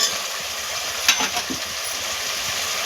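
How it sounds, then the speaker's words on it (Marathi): Carrots, cauliflower, potatoes, tomatoes, green chillies and peanuts for a veg pulao are sautéed in a pan, giving a steady, close sizzle with a few soft stirring scrapes. "आता हे आपण सगळं दोन मिनटं परतून घेऊया व्यवस्थित"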